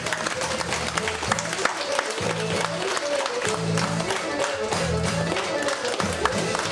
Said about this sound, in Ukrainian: Гості ми плескаємо, а зять тещу йде цілувати.